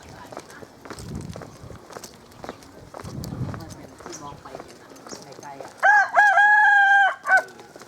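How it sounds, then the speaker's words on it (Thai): A hen crowing at a Thai hill outpost, one loud drawn-out crow followed by a short extra call near the end, after quiet footsteps and soft background activity. "ตัวเมียขันได้ด้วย"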